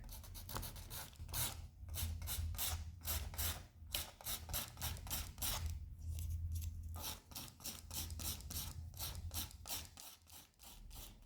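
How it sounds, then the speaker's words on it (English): Dried oil paint on a painting is sanded down by hand in repeated short scratchy strokes, a quiet close rasping rhythm with brief pauses between bursts. "you need to sand down your paint"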